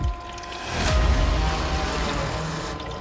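Water pours and splashes nearby in a steady, moderately loud stream, with a brief burst of splashing near the start and no talking.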